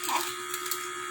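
A steady, close battery-powered electric razor buzz, used to clip a dog, with a constant mid-pitched drone and airy hiss, running unbroken from start to finish without any talking.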